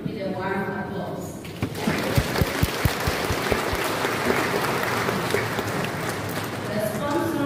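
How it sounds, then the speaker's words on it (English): Warm applause from a church congregation at an early morning Simbang Gabi Mass welcoming a priest: after a voice speaks, scattered individual claps build into a full, steady round of clapping that continues, with talk returning at the end. "Please welcome him with a warm applause."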